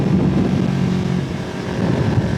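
Strong wind buffets a rider on a motorcycle cruising a highway at about 70, a heavy continuous rumble of wind noise over the low engine drone, loud and unbroken.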